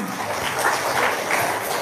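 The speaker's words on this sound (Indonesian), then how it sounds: "Sip, tepuk tangan dulu dong." Brief burst of audience applause at an Islamic religious talk, dense steady clapping throughout with no speech over it.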